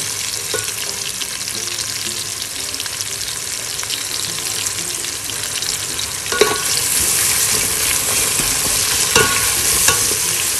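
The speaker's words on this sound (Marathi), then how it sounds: "कांदा छान मऊ पडेपर्यंत परतून घेऊया." Chopped onion stirred and frying in hot oil for a home-style chicken biryani, a steady close sizzle with occasional scraping clacks of a spoon in the pan.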